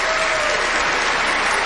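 Applause for Mitt Romney's speech, a short burst of dense, continuous clapping from a large audience, steady and fairly loud with no voices on top.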